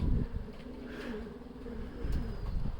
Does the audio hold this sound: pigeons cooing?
yes